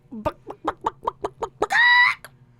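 A woman vocally imitates a chicken: a run of about eight short rhythmic clucks followed by a long, loud squawking cackle, close and clear, with a faint hum underneath.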